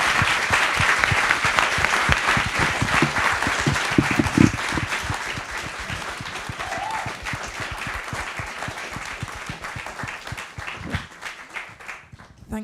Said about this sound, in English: Can I have another round of applause, please?